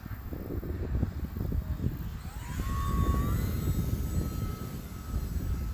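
Radio-controlled model jet aircraft flying outdoors on a windy day, a steady engine whine and rush with a rising then falling pitch as it passes, moderately loud, no talking.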